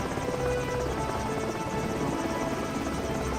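Cartoon helicopter in flight, a steady whirring rotor drone holding at a constant level for a few seconds with no other sounds over it.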